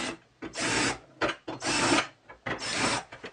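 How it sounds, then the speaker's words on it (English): Holes in metal linear glides are deburred with a larger drill bit, giving three separate rasping, scraping bursts in an even rhythm with short pauses between, close and fairly loud. "I'm just going to deburr these holes with a larger drill."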